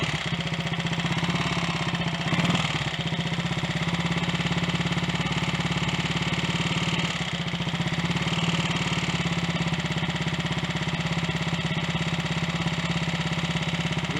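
A Triumph Tiger Cub motorcycle engine, suspected of burning oil, idles steadily while warming up, a close, continuous low chugging throb with an even rhythm, a brief blip around the third second, and no voices over it.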